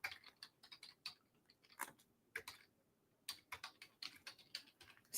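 Typing on a computer keyboard: quiet, crisp keystrokes come in short bursts of clicks, with brief pauses between runs.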